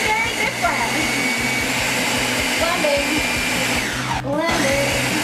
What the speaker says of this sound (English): So everything's in the blender. I'm just gonna lock that up and we're gonna mix that up.